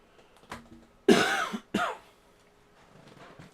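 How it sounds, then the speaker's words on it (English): A man coughs hard twice in quick succession, a short throaty burst followed by a second, close to the microphone in an otherwise quiet room, with a faint throat sound just before. "Sorry for the cough, but I have them pretty bad right now."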